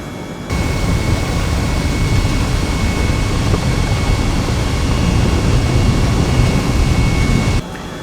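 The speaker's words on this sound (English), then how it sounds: "Moving away from the pad is an easy affair." Eurocopter EC135 helicopter engine in a flight simulator game, a steady loud turbine whine and rotor roar holding constant while the aircraft moves away from the pad, with no talking.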